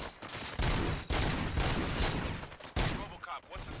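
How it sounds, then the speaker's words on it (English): Gunfire in the RoboCop: Rogue City video game, a loud run of sharp repeated shots and bursts packed close together over several seconds, with dense crackle between the blasts. "Gunshots?"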